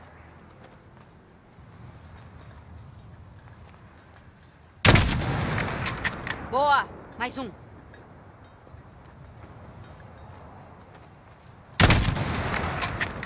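Sniper gunfire in Call of Duty Modern Warfare: two loud, sharp rifle reports several seconds apart, each ringing out over a low windy background, with someone speaking between the shots.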